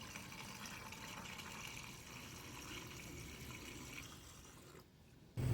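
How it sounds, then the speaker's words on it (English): Distilled water being poured into a car's cooling system, a quiet steady trickling stream of liquid filling the reservoir, continuous and faint before stopping, with a brief knock at the end. "Then I add distilled water."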